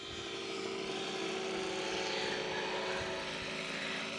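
The Eagle, a light aircraft at a fly-in, runs its propeller engine with a steady droning hum while preparing to take off, close and continuous for the whole stretch.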